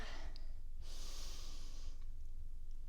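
Person breathing in and out during a yoga session, a faint, quiet inhale with a longer airy exhale in the middle, over soft low background noise.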